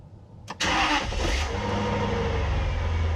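A Jaguar XJR's engine cranks with a short whir and catches, then settles into a steady, close idle with a low rumble, heard alone without talk.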